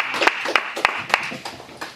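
A church congregation applauds the introduction of a preacher, producing a moderate, somewhat sparse clapping that carries on for about two seconds in a reverberant hall.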